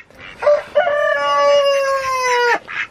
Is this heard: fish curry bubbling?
no